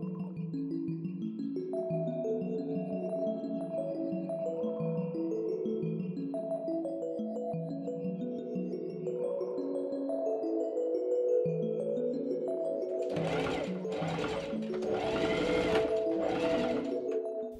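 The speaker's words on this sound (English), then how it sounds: "I machine sew a tiny hem into the facing piece." A sewing machine hems a linen facing piece for a wrap dress, humming under a layer of soft tonal music, with a louder rattling burst of stitching near the end.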